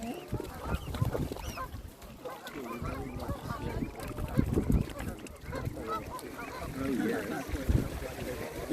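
Geese honk repeatedly on the water at a swan sanctuary in Dorset, overlapping calls mixed with nearby people talking.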